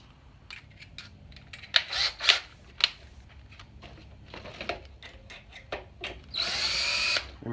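A power drill backs out a 3-inch screw in a series of short whirring bursts and clicks, growing into one longer sustained spin at the end, close and fairly quiet with no talk.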